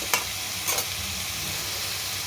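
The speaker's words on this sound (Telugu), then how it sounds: "వీటిని జాగ్రత్తగా కలపాలి." Bitter gourd pieces stir-frying in a pan, a continuous loud sizzle with two brief scraping stirs, close and without speech.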